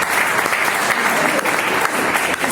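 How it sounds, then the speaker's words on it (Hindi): An audience bursts into steady, loud applause at a marketing plan presentation, dense clapping that holds evenly throughout with no break. "तालियां होनी चाहिए।"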